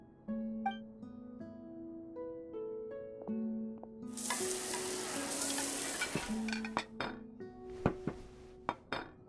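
Food sizzling and frying in a pan in the Genshin Impact video game, a loud burst of hissing in the middle with utensil clinks and scraping, set against a gentle melodic music bed.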